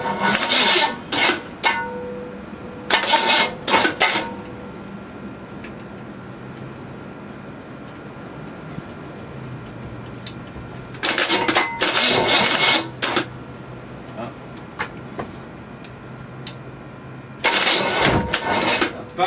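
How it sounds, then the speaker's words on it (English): A small block engine cold starting, cranking in several loud bursts with sharp pops as it backfires out the carburetor, separated by quieter stretches. "Backfiring out the carb."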